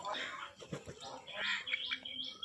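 A bird calls nearby, giving several quick chirps and warbling notes in short bursts against a quiet outdoor background, with a faint voice briefly under it.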